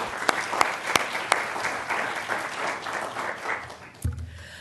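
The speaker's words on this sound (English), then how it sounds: "let's give them all a round of applause" A room of event participants claps in thanks, with steady applause and a few sharp nearby claps standing out, fading off before a thump near the end.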